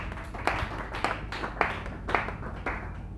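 A church congregation claps in a steady rhythm, with sharp beats roughly every half second that sound moderately near and fairly quiet in a reverberant room, and no one talks over them.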